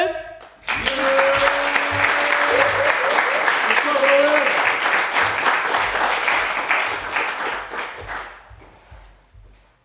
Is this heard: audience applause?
yes